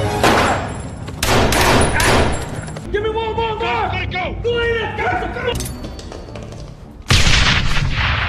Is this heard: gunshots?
yes